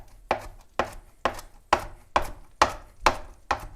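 A knife slicing a cooked entrecote steak into thin strips on a board, eight evenly spaced, crisp chopping strikes about half a second apart, close and clear with no talk.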